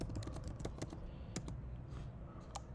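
Rapid keystrokes on a computer keyboard while Swift code is typed in Xcode, an uneven run of crisp clicks, close and clear, with a steady low hum and no talking.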